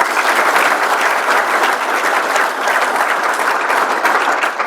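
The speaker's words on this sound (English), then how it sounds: "So just a round of applause for them" Steady, loud applause from a crowd at an athletics hall of fame ceremony fills the whole stretch, dense clapping with no pauses and no talking over it.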